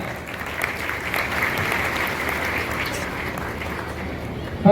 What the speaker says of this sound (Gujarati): જોરદાર તાળીઓના ગરગડાટથી આપણે તેમની વાણી જે છે એને બિરદાવીશું